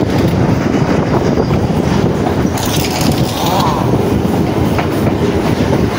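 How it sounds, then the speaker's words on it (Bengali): A local train on the B.B.D. Bag to Sealdah line via Majerhat runs along an elevated track over a bridge, giving a steady, loud rolling rumble with a dense rattle of wheels and carriages throughout. "এই দেখুন এলিভেটেড লাইনে উঠে গেছে আমাদের ট্রেন"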